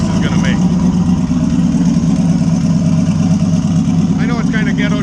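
A turbocharged LS-swapped Buick Regal idles with a newly installed exhaust, a loud, steady low rumble throughout, with brief faint chirps near the start and end.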